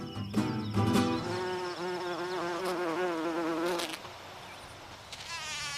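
Bees and other pollinating insects buzz around garden flowers in a close, continuous, wavering drone that rises and falls in pitch, with no voices.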